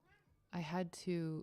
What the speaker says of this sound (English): oh, that's my cat rubbing up against the microphone.